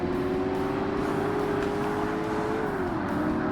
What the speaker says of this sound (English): I hit the rev limiter